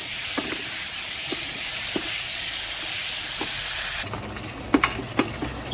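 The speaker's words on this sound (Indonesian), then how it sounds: "Lalu kita masukkan udang. Kita tumis juga ya udangnya." Shrimp sauté in a hot pan with a steady, loud sizzle that suddenly drops to a softer frying hiss, broken by a few light clinks of a utensil.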